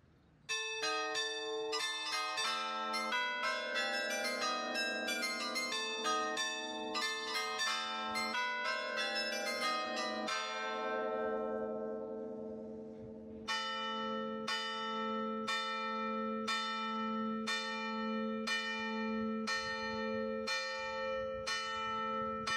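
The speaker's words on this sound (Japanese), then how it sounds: "今から正午の鐘を聞きます。" Church bells in Honfleur, France ring at noon, close and loud: a rapid tumbling peal of several bells, then a pause and steady, evenly spaced single strokes, ringing alone without voices.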